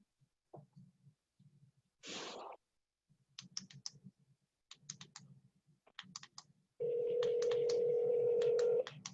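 Telephone being dialed to place a call: a run of short clicks and keypad beeps in quick bursts, then a steady, loud sustained tone for the last couple of seconds. No one speaks.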